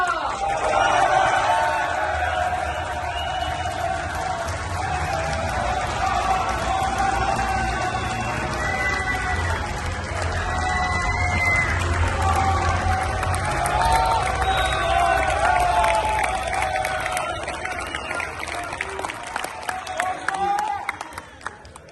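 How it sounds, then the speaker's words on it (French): A large crowd at a political rally in Massy applauds and cheers, a loud sustained roar of clapping with whoops and shouting that holds for about twenty seconds before thinning out. "faites un tonnerre d'applaudissements à Jean Messia."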